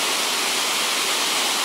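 A small winter waterfall cascade in Toila, Ida-Virumaa, Estonia, with the air just below freezing, pours as a steady, full rushing roar that holds unchanged throughout with no voices.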